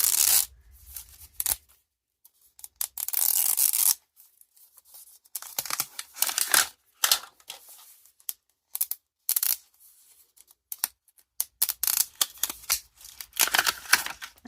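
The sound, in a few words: opening a brittle plastic package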